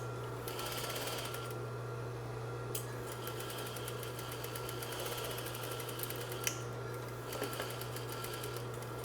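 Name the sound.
sewing machine stitching and back stitching fabric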